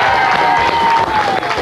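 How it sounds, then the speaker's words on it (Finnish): A studio audience at a Finnish game show gives a dense burst of applause and cheering, loud and continuous. "Annetaan Mattille vielä yhdet aplodit"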